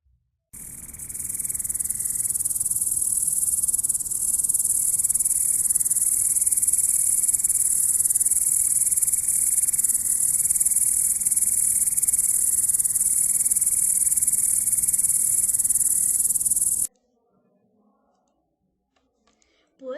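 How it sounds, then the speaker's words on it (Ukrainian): A cricket chirps loudly and steadily, its high trill continuous for about sixteen seconds, with a fainter lower pulsing layer underneath, then cuts off abruptly into near silence. "поля заковує цвіркун у хаті, заводить пісню"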